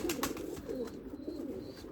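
Erzurum white breeding pigeons coo softly in their loft, with low rolling, repeated coos close by over faint background rustling.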